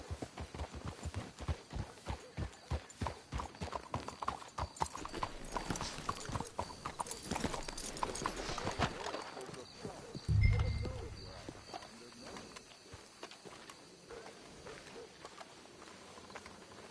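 Steady clip-clop of horse hooves on a hard surface in Red Dead Redemption 2, a quick even rhythm through the first half, then slowing and fading as low rumbling and quiet voices take over.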